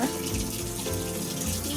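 A kitchen sink faucet runs steadily at close range, a continuous hiss and splash of water with no voices over it, heard while baking at home.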